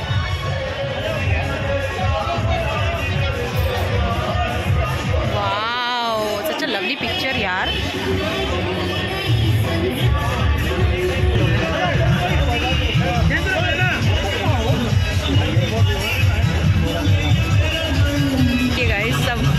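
Dense crowd hubbub at an Indian wedding, steady overlapping chatter and babble filling the whole stretch, with someone talking close over the crowd.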